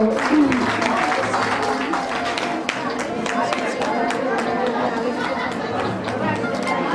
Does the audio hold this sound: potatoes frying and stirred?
no